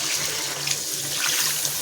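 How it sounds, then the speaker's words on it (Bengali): Water poured into a pan of curry, a short, steady close splashing rush of liquid heard alone with no talking. "দিয়ে দেবো জলটা, ঝোল দিয়ে দেবো।"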